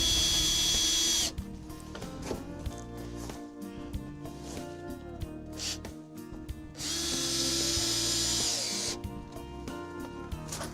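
A power drill drives screws into a wooden Vegtrug planter board in two loud whirring bursts, each one winding down into uneven stuttering grinding as the screw seats, heard close up with no talking.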